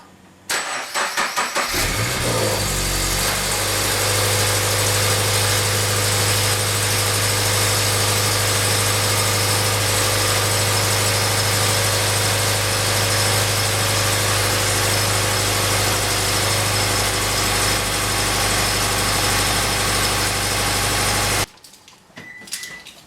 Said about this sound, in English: let me just see if I start the car